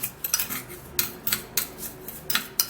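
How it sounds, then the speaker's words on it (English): A spoon clinks repeatedly against a bowl or glass while lemon juice is stirred into sugar, with a series of bright, fairly close metallic taps at an uneven rhythm and no voices. "and then stir it all up"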